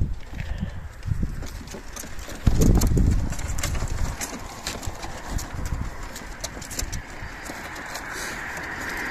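Racing pigeons are let go for a morning training flight, with a sudden burst of wingbeats and flapping and some scattered cooing. Background clatter and rustling surround the takeoff.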